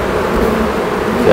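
Dense, continuous buzzing of many bees swarming around a hive fills a short stretch, loud and close, with no talking.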